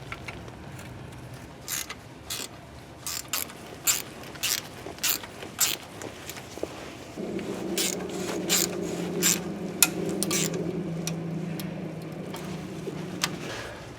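An 8mm ratcheting wrench drives bolts onto a Ford Expedition/Explorer front spindle, giving rapid bursts of clicking ratchet strokes that later run over a low mechanical hum, close and fairly quiet.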